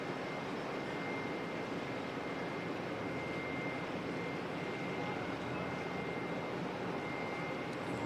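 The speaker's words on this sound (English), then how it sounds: "ATR on screen heading off to Palmerston North, and one going to Napier's gone pretty much right down the far end" An ATR turboprop airliner on a full-length departure at Auckland Airport gives off a faint, distant, steady roar that holds unbroken throughout.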